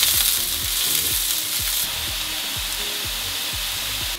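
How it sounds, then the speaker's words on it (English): Onions hit hot oil in a wok for vegan fried rice, a loud continuous sizzle and hiss close by with rhythmic stirring scrapes underneath. "That oil, when hot, will start to glisten. Then we're gonna add 2 to 3 cups of our onions."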